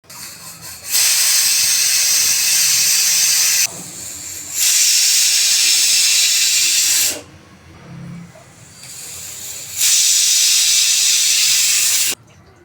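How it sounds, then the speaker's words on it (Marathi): A pressure cooker on a stove cooking stuffed brinjal lets out three long, loud steam whistles, each a harsh hiss of a few seconds, separated by short quieter gaps. "कुकरला झाकण लावून 3 शिट्ट्या काढून घेऊ."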